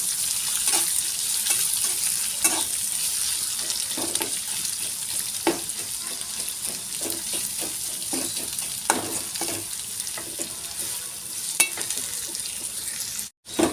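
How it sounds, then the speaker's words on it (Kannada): Lengthwise-sliced onions fry in a hot pan for tomato upma, a steady sizzle running throughout with frequent scraping stir clicks and taps of the spatula, no talking. "ಈರುಳ್ಳಿಯನ್ನು ನಾವು ಹೊಂಬಣ್ಣ ಬರೋ ತನಕ ಹುರ್ಕೊಳ್ಳೋಣ"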